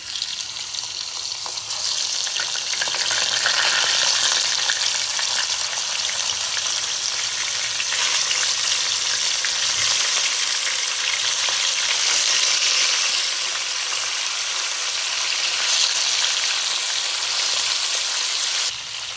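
Pieces of murrel fish frying in hot oil with curry leaves and fenugreek seeds, a steady dense sizzle that holds strong and close for the whole stretch after a brief softer start.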